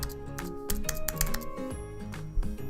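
Rapid clicky keystrokes on a computer keyboard as a keyword is entered into a search field, close and crisp, with uneven bursts and a firmer final press.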